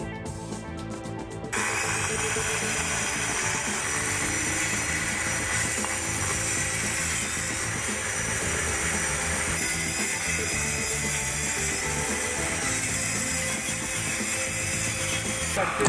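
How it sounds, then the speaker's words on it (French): A power saw cuts through wooden composite deck boards, a continuous loud grinding whine starting after a short pause and running steadily and close for the rest of the stretch. "réglez la hauteur de la scie et procédez à la coupe des lames"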